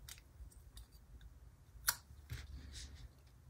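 Scissors trimming a sticker straight across for a Happy Planner spread, giving a few soft, quiet snips and clicks spread over the moment, with one sharper cut standing out near the middle.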